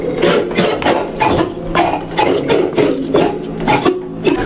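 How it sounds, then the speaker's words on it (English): Squeaky, rasping rubs from miked wooden pieces of an invented instrument at a New Orleans sound playground, repeating in uneven strokes at close range and fairly loud, with no talk. "What you're hearing is not the squeaking of these actual things, but the squeaking of these pieces of wood that are mic'd."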